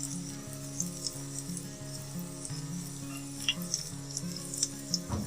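Chicken piyaju fritters fry in hot oil in hotel style, a close continuous sizzle with occasional crisp pops and bubbling bursts, moderately loud, over a soft background music bed.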